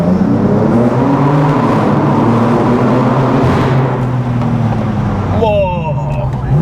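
A BMW M4 fitted with a full tube exhaust accelerates hard, its engine loud and close with a rising, shifting drone, while people talk inside the car.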